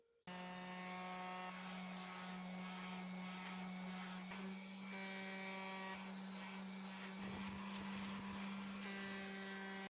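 A hand sander runs steadily against a scorched wooden mantelpiece, a loud continuous motor whine with a constant hum and rough rubbing texture, starting and stopping abruptly, with no talk.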